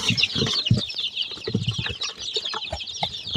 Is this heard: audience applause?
no